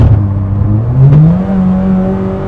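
A Honda Jazz fitted with a K20 Type-R engine pulls away on the road, its engine note rising steadily in pitch as it accelerates, heard loud and close from inside the car.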